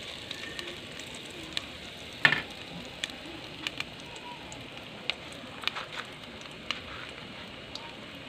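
Banana blossom burger patties frying in hot oil, a quiet steady sizzle with scattered sharp pops and crackles over several seconds.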